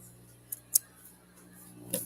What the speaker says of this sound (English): you can just snip your fabric